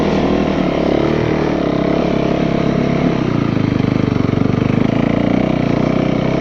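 A Nemesis snow bike engine runs loud and close under throttle, a continuous buzzing drone that shifts pitch and rhythm partway through as the rider steers up and down slopes, with no talking.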